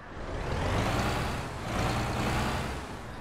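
Low, rumbling Iveco diesel engine of a Jelcz L100I bus in the OMSI video game idling and revving steadily, a dense continuous drone with slight swells, no voices.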